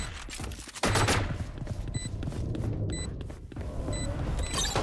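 Rapid automatic turret fire in a shooter video game, a dense loud burst of gunshots starting about a second in and continuing steadily, with sharp electronic beeps and effects layered over it.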